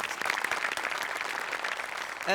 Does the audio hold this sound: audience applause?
yes